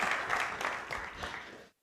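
Applause from a church congregation during a worship service, a dense steady wash of many hands clapping together that stops abruptly before the end.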